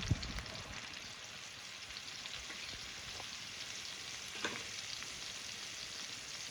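Tomatoes cook in a pan for a drumstick curry, giving a steady, soft crackling sizzle with a few faint pops and clinks, quiet and continuous with no talking.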